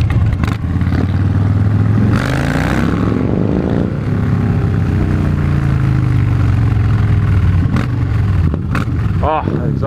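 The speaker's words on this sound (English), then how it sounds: "Oh, that exhaust sounds great." A 2016 Harley-Davidson Fat Bob's exhaust revs up and falls back in loud, close swells with a deep rumbling idle between the revs, mixed with wind and clatter from riding.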